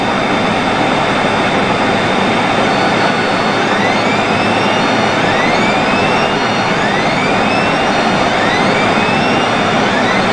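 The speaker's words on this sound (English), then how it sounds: "with full throttles and showing about 300 knots, we make a low pass" A Learjet makes a low pass at full throttle at about 300 knots over a runway, its jet engines giving a loud, steady, continuous roar with a high whine, close and alone throughout.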